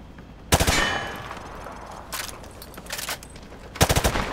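Gunfire punching through light cover in the video game Call of Duty Modern Warfare 2 Remastered training range: three sharp bursts of rapid shots with metallic clangs between them, loud against a quiet background.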